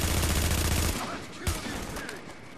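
A weak-hitting shotgun fires in The Division video game, a loud dense burst of shots that cuts off after about a second, followed by quieter game ambience with a single sharp crack.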